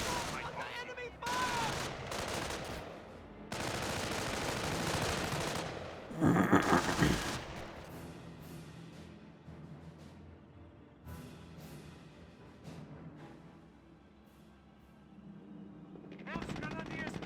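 Battle gunfire in Company of Heroes 1 as grenadiers come under attack: bursts of machine-gun and rifle fire cluster in dense volleys, peak with one loud burst, then thin into sporadic distant shots before a final flurry.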